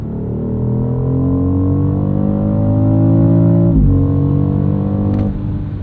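A 2025 BMW X3 M50 SUV with a turbo inline-6 engine accelerates hard in boost mode. The loud engine note climbs steadily, dips briefly at a gear change and then rises again, heard close from inside the cabin.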